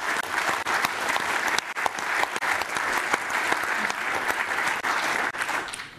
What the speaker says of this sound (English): Give it a hand, clap of hands,